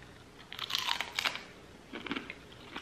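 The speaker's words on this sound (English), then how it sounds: "Very good crunch, very good flavor." Crisp crunching bites on a beef ribeye meat chip, two bursts of close, dry chewing separated by a short pause, with no talking.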